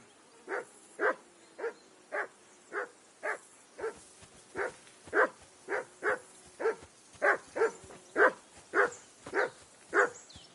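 A dog barking in the medieval video game Kingdom Come: Deliverance 2, a steady run of about eighteen evenly spaced loud barks, close and clear with no talk over them.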